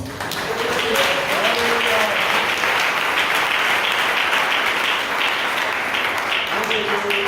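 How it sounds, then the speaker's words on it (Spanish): A church congregation breaks into sustained, loud applause at a sermon, dense steady clapping that fills the room for several seconds while a voice speaks briefly over it. "Denle un aplauso al Señor."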